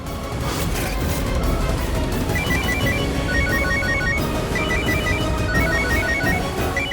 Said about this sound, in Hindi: सरपत भैया को फोन लगाती हूँ।